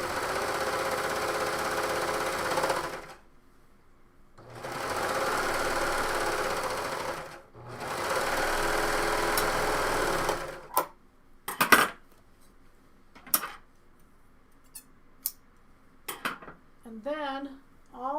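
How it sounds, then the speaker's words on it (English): A sewing machine stitching coat fabric runs in three bursts of steady whirring, separated by short pauses. Sharp clicks and clinks of handling follow, and faint talk is heard toward the end. "with this fabric to use a sewing machine and do it that way"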